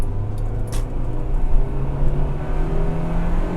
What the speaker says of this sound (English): Love the sounds of a revving Honda.